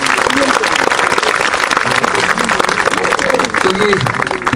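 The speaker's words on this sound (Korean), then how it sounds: "다시 한번 뜨거운 박수 드리고요." A lecture audience gives a loud, sustained burst of applause at a talk marking the fifth anniversary of the October 4 inter-Korean summit, with a voice speaking over the dense clapping throughout.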